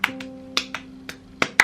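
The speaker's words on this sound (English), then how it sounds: "It's basically just a piece where people are clapping but in different times" Hands clapping a sparse rhythm from Steve Reich's Clapping Music, about eight sharp close claps and snaps spaced unevenly over a faint low hum, alone without talk.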